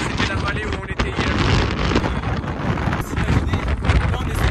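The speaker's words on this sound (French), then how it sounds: "Il y a beaucoup trop de vent." Strong winter mountain wind at the Col d'Ayous in the Pyrenees, continuous loud gusts buffeting the microphone with rumbling bursts throughout.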